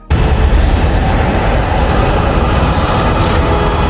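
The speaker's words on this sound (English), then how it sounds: "Carl sacrifices himself as the power source detonates" A film's power source detonating in a huge explosion, a sudden loud blast that swells into a dense, sustained roaring rumble for several seconds with no speech.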